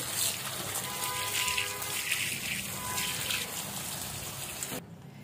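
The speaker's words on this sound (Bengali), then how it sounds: "কেটে রাখা শাকগুলো এবার আমি ভালোভাবে ধুয়ে নিচ্ছি।" Chopped leafy greens being rinsed in water, a steady close splashing and trickling wash that runs for several seconds before cutting off abruptly near the end.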